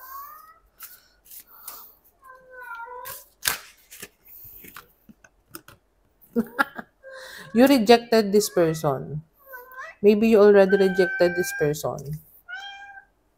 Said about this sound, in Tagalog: Sorry sa ingay ng pusa,